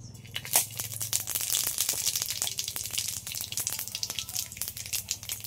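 Panch phoron seeds dropped into hot mustard oil in a kadai, a dense crackling sizzle with rapid popping spatters, steady and close, with a low hum underneath.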